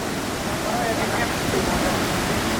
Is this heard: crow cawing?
no